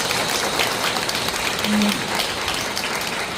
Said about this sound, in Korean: 신부님께 다시 한번 큰 박수 부탁드립니다